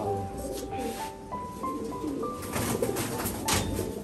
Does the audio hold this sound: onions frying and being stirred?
no